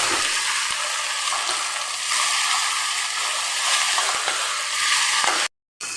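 Vegetables are mixed in a bowl, making a steady, close hissing and rustling as they are stirred. The sound cuts out briefly near the end and no one speaks.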